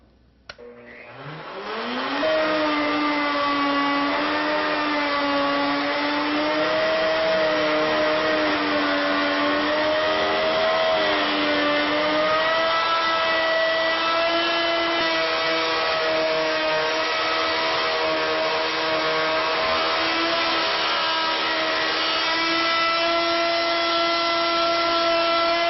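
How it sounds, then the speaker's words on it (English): A router spins up quickly to a steady, loud, high whine as the bit cuts turnings in wood stock for a three-leg pedestal, holding its pitch with slight wavering and no talk. "For my first cut, I will start the router bit off the back side of the wood, turn my stock counterclockwise."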